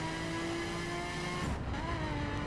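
Maserati MC12 engine in The Crew, a steady sustained drone with a faint tire squeal, heard from inside the car and slightly muffled, with a shift in tone midway.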